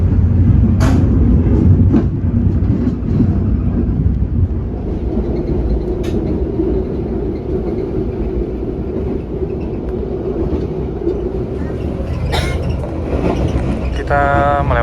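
The Pandalungan executive passenger train rolls along the rails on the Jakarta–Jember route, a loud continuous rumble and clatter with sharp metallic clicks and a brief squeal near the end.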